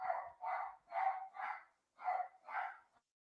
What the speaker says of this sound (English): That is definitely one of the neighborhood dogs.